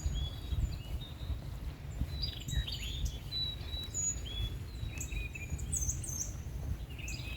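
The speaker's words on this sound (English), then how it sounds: "I don't know if you can hear all these birds." Many birds chirp and sing at once in woods in Texas, thin calls scattered over a steady low rumble of outdoor background noise.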